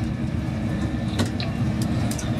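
Onboard a Virgin Pendolino service bound for London Euston, a steady low rumble of the train running fills the carriage, with faint intermittent clicks of the wheels on the rails and no talk.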